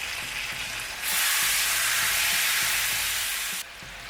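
Two sticks of butter and a tablespoon of garlic sizzle in a hot pan for alligator scampi, a steady close crackle that surges loud after the first second and stays bright before easing off near the end.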